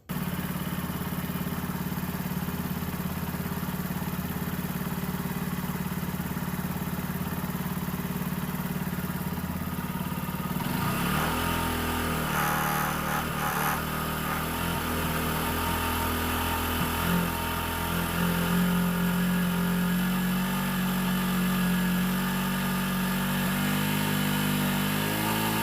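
A Lexmoto Isca 125 motorcycle with a bogging fault runs close by with the throttle held, a steady engine drone that shifts in pitch partway through and carries faint mechanical clatter.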